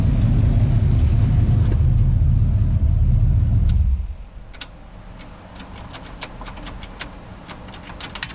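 A 1959 Pontiac Bonneville convertible barn find running, its engine a loud, steady low rumble for about four seconds before it cuts out, leaving a quieter ticking and clicking background.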